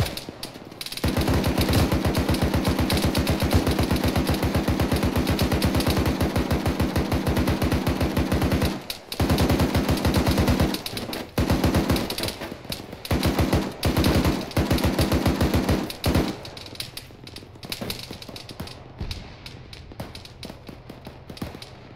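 Automatic gunfire in the military game ArmA 3, with long rapid bursts of close, loud shots, brief pauses between strings of fire, then sparser shots fading out at the end.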